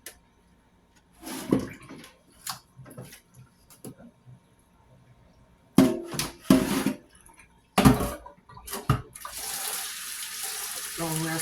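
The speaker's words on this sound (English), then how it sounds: "So we're going to pour out this water." Water is poured out into a kitchen sink after cooking oxtails, coming in short splashing bursts and then a longer steady run near the end, close by, with quiet gaps and light handling noises between.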